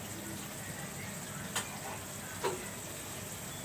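Chopped taro stems sauté in a hot pan with a steady, soft sizzle and crackle, a couple of faint clinks of a utensil breaking through, with a voice murmuring low underneath.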